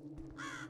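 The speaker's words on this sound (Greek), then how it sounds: "Ακούω ένα κοράκι, εδώ το ακούω." A single crow caw in the video game Buried Alive: Breathless Rescue, a short harsh call rising out of a quiet, low ambient hum.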